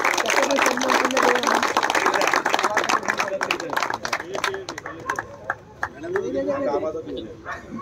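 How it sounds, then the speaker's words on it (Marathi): An audience claps for a player at a cricket tournament prize distribution ceremony, crisp hand claps rolling strongly then thinning out, with a voice speaking over the later part. "जोरदार टाळ्या होऊन जाऊ दे"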